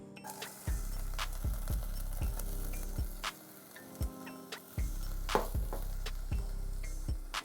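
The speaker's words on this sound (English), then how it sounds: "What we're gonna do, we're just gonna lightly saute" Shallots go into a pan for a light sauté, a faint sizzle running under a steady series of hollow knocks and scrapes from a utensil against the pan.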